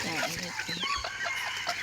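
Chickens being caught to sell at a rural Thai or Lao farm, clucking and squawking close by in short bursts, with voices talking over them.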